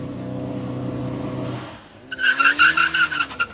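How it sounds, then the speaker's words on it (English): A VW MK7 or Audi 8V 2.0T turbo car holding a droning, fuel-cut launch-control rev to build boost, then dropping off before a loud burst of squealing tires and acceleration. "This advanced launch control programming uses a safe and stable fuel cut strategy to build turbo boost while staging, delivering an aggressive boosted launch"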